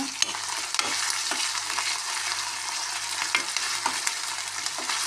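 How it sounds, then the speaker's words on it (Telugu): Ginger garlic paste frying in a pan for carrot bhaji, a steady close hiss of sizzling oil with occasional light spoon taps and stirring clicks, no speech over it. "అల్లం వెల్లుల్లి పేస్టు 1 టేబుల్ స్పూన్ ఫుల్లు,"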